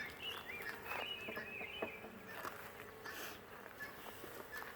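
Honey bees hum faintly and steadily around an open hive during a brood inspection, with occasional soft handling knocks and rustles beneath the buzz.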